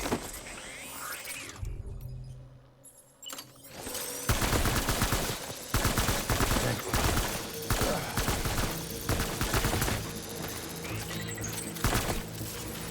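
Gunfire erupts in the Death Stranding video game, a dense run of sharp shots and bursts, loud and close, rattling on nearly continuously over a busy game soundscape after a brief quieter lull.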